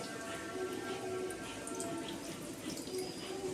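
Water trickling and dripping steadily out of the holes of a colander holding washed chicken pieces, a continuous close splashing patter with faint voice behind.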